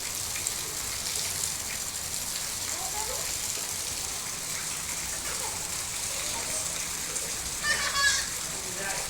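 Heavy monsoon rain pours over open farm fields, a dense continuous hiss close around, with voices and distant children's chatter rising briefly over the downpour.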